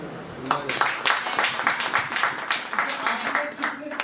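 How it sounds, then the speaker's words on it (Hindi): A seminar audience claps on request, a dense burst of many hands that carries on steadily for about four seconds, with voices mixed in under the applause. "क्या एकदम ताली बजाओ।"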